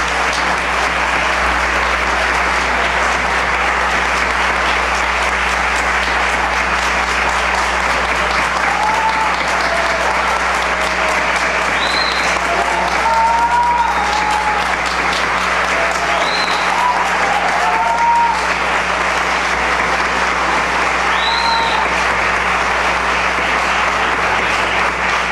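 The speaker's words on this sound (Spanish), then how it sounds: "Gracias por los aplausos." Sustained applause from a concert audience at a Colombian traditional music performance, a dense, steady wash of clapping that holds loud and even for the whole span with no break.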